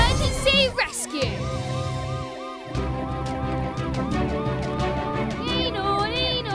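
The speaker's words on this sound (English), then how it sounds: "You can use the siren to alert everyone that you're rushing to an emergency." A cartoon ambulance siren wails in repeated rising-and-falling sweeps alongside bright music and sound effects, loud and continuous, while characters talk over it.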